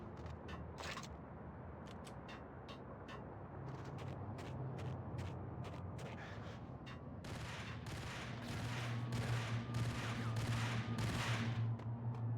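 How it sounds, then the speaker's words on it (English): Gunfire in the shooter Max Payne: a few sharp isolated shots early, then a quick run of loud cracking bursts in the latter half over a low droning hum. "Thought I heard somebody shooting from over there."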